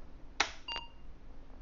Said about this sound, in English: we got the startup beep